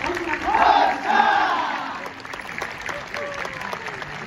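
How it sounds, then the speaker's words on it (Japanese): Crowd applause and cheering in the stands at a baseball park's opening commemorative game first pitch ceremony in Morioka, Iwate, with a louder swell early that settles into steady distant clapping, some voices mixed in. "皆さんも大きな拍手。"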